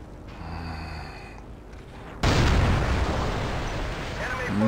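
Loud explosive blast from a helicopter attack in the video game Battlefield 2 erupts suddenly after a quieter stretch, followed by a sustained roaring rumble that swells again toward the end.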